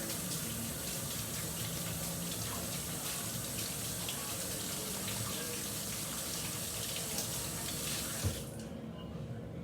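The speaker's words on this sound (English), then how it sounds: "let me wash my hands" Tap water runs steadily into a kitchen sink during handwashing, a continuous close hiss and splash that cuts off abruptly near the end.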